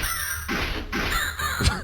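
Crow caws in the horror video game House of Necrosis, several harsh calls in a row, loud and close, with no talk over them.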